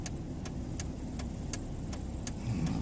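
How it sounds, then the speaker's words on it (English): A driving school car's engine hums steadily while driving, a low continuous rumble with faint regular ticking and a slight rise at the end, with no talking. "it's a pretty dodgy driving school car"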